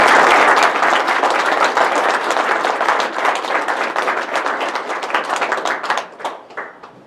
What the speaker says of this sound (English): All right, a big round of applause for Darryl.